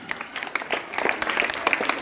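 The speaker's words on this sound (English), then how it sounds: "give her a big round of applause" Audience applause for a newly elected student representative at a school gathering, scattered distinct claps from a modest group, fairly close and uneven, building slightly over a couple of seconds.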